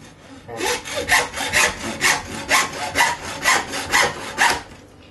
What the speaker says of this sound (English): So we'll get the hacksaw